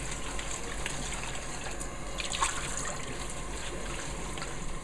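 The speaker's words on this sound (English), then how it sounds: "We'll give it a good rinse." Fresh watercress being rinsed under running water, a steady close gush of water splashing over the leaves that holds at an even level throughout, with no talking.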